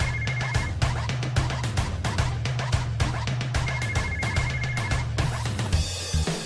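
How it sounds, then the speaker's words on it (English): A phone rings in a repeating electronic pattern, mixed with rhythmic music-like beats and no talking. "The phone's ringing."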